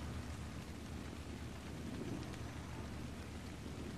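Steady heavy rain with low rumbling thunder in the video game ARK: Survival Evolved, a constant dense hiss with a deep rolling undertone and no talk.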